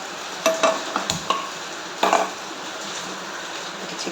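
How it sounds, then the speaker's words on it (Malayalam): Steady hiss of chicken frying in oil, with a few louder clatters and scrapes of stirring in a pan, close by, no voices. "ചിക്കൻ നമുക്ക് വറുത്തെടുക്കാം"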